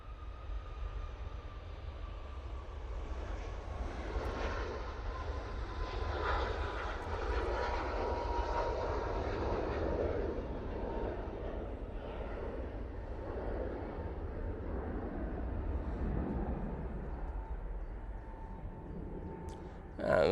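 A Ryanair Boeing 737 MAX 8 jet takes off at Manchester Airport with a broad, continuous engine roar and rumble. The noise holds steady for about twenty seconds and sounds moderately distant, with a faint voice at times.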